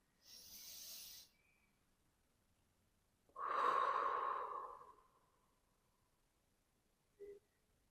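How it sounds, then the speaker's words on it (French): A deep breath taken during a yoga session: a soft inhale, a pause, then a longer, fuller exhale, followed by a brief faint sound near the end, close and quiet with no talking. "Encore une inspiration."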